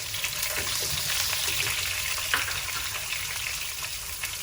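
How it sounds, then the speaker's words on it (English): Shallots dropped into hot oil for Indian stir-fried beetroot, frying with a steady, dense sizzle that holds evenly throughout, close and fairly loud, with no talking. "I'm going to add in the shallots"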